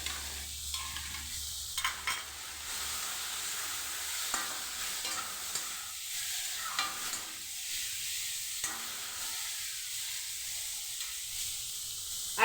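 A beaten, salted egg fries in a pan, its soft steady sizzle broken by repeated scraping stirs, close and fairly quiet, with no one speaking.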